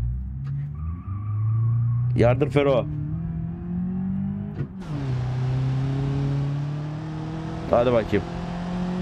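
Engine of a Citroen Xsara in BeamNG.drive, a steady drone that rises and holds as the car accelerates, with a brief mechanical clunk midway. Two short bursts of someone talking sit over it.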